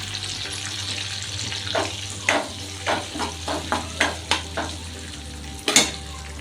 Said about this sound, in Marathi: याच तेलामध्ये मी जिरे मोहरी टाकणार आहे, कढीपत्ता, मिरची आणि अद्रक लसूण पेस्ट.